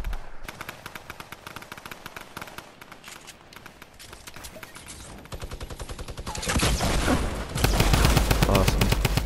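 A drum gun fires in rapid automatic bursts during a 50v50 match of the video game Fortnite, the shots stuttering at first and then building into louder, sustained volleys toward the end.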